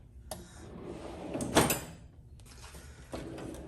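A drawer of a long metal tool box sliding open, with a rattle of contents and a clunk near the middle, then a softer thud later; close and fairly quiet.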